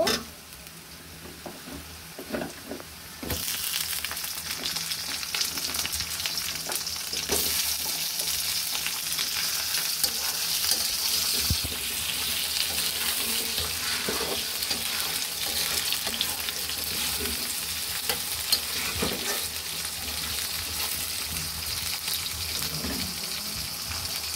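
Potatoes and onions fry in oil in a wok; the sizzle swells loudly once the potatoes go in, with intermittent stirring scrapes and clatters over the continuous hiss.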